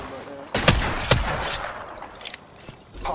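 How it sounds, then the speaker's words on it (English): Gunfire in the game Apex Legends: a few sharp, loud bursts of shots crack out early on, followed by quieter scattered shots further away against a low background rumble. "I'm taking fire."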